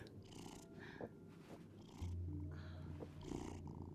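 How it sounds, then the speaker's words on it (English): A cat purrs in the video game Life is Strange: Double Exposure, a soft, steady rumbling purr with rhythmic breaths, close and alone without talk. "Oh, oh, oh, kitty."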